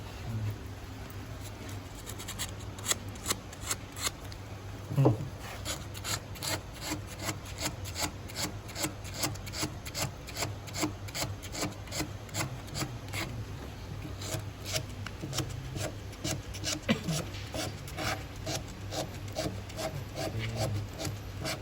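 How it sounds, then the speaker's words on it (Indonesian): Sandpaper is rubbed over the rusty tip of a metal hand tool, making quick rhythmic scratchy back-and-forth strokes, close and steady, for about twenty seconds with no talking. "Nah, kita itu perlu mengamplas bagian-bagian sini."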